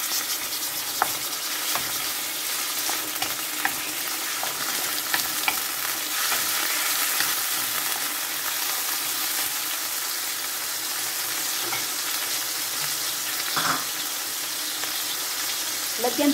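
Pork marinated in calamansi and soy sauce frying in a pan with garlic and onion, a steady hiss of sizzling throughout with occasional stirring clicks and scrapes, fairly close and moderately loud.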